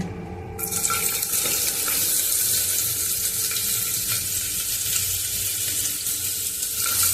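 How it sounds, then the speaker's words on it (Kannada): Onions and cardamom frying in hot oil for jeera rice, a loud hiss that starts abruptly and then holds as a steady close sizzle with faint stirring, no speech. "ಈರುಳ್ಳಿ ಜಾಸ್ತಿ ಫ್ರೈ ಮಾಡಬಾರ್ದು"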